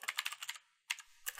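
A command is typed on a computer keyboard in two quick bursts of crisp key clicks, several rapid taps, a brief pause, then a few more strokes, close and alone.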